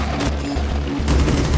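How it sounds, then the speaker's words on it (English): Finka's 6P41 light machine gun fires unsuppressed in Rainbow Six Extraction, a rapid sustained burst of loud, dense automatic shots. "nearly doubled the damage output of Finka's 6P41 LMG"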